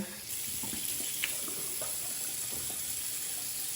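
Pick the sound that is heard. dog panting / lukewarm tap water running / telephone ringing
lukewarm tap water running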